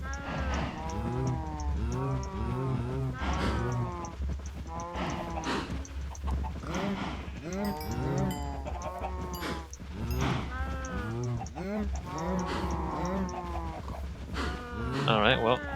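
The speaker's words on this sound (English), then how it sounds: "Holy cow, there's a lot of cows." Many cows moo repeatedly in Minecraft, overlapping drawn-out lowing calls in a crowded herd, with a few higher bleats mixed in and a constant low hum beneath, close and continuous.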